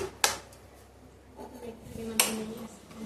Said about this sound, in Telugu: చూడండి, యాలకులు సరిపోయేంత చక్కెర వేసుకొని ఇలా కలుపుకోవాలి.